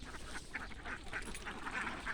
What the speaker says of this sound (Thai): เขาจะก็เลี้ยงเป็ด เนี่ยเลี้ยงเป็ด